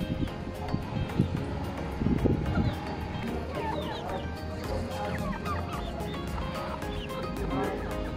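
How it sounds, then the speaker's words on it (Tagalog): Bantam chickens, some with frizzled, raised back feathers, cluck and chatter among other fowl in a busy pet shop, with steady crowd and room noise throughout. "ang daming mga bantam oh"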